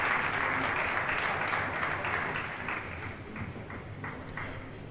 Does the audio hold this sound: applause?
yes